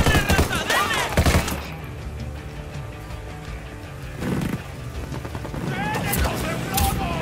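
Sustained gunfire from a firefight in Ghost Recon Wildlands, with bursts of shots and booms over a busy game mix, loud and near, with voices talking over parts of it.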